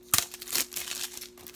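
Dora and the Lost City of Gold Blu-ray combo packaging being unwrapped, with a quick, close plastic crinkle and a brief rustle of film.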